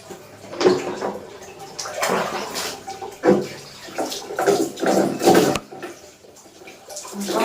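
Water is poured and splashed for washing, in uneven bursts of sloshing and pouring that rise and fall, loud and close, with brief pauses between.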